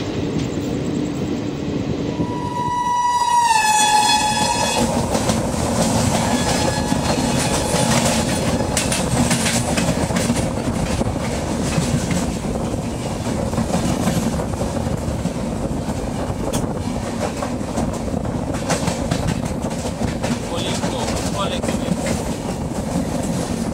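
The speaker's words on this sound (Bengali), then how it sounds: "আমাদের ট্রেন কিন্তু ছেড়ে দিল ভদ্রক স্টেশনের 2 নম্বর প্ল্যাটফর্ম থেকে" The Garib Rath Express from Shalimar to Puri pulls out of platform 2 at Bhadrak station. A loud, steady rumble of wheels on rails rolls on throughout, with a brief high squeal near the start.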